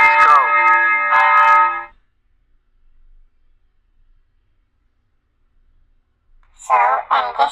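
A church bell rings with a rich sustained tone at the start of an emergency-alert scenario, followed by near silence and then a voice speaking.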